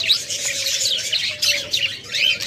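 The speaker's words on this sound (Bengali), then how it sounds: "তাছাড়া আমাদের কাছে রয়েছে অ্যালবিনো বাজবিগার" A pair of albino budgerigars chirping and chattering nearby in quick bursts of bright warbling tweets, with a faint steady hum underneath.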